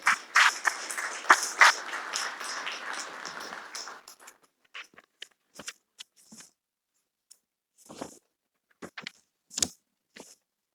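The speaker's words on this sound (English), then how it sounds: "So please, a quick round of applause for our sponsors this year." Short round of audience applause for sponsors at an organic farming association's annual meeting, dense for about four seconds and then thinning to a few scattered, isolated claps in a quiet room.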